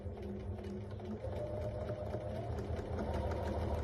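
A sewing machine stitching a dry hot water bottle filled with flaxseed gives a continuous, even, close mechanical whirr with a rapid needle rhythm, and a slight change in pace just after the first second.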